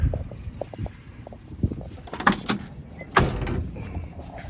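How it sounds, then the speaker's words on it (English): A 1967 Chevrolet Camaro door shuts with a solid thump amid quieter clicks and handling noises. "Let me close that door."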